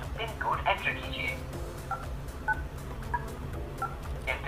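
Phone keypad tones as an ID number is keyed into Al Ahli Bank's phone banking line: several short, separate beeps spaced about half a second to a second apart, with a voice talking over and between them.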